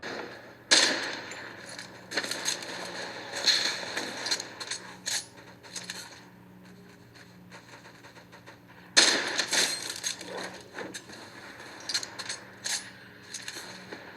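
Fortnite gameplay on a OnePlus 7 Pro phone, with bursts of gunfire, clicks and mechanical game effects in two clusters separated by a quieter stretch, and no voices.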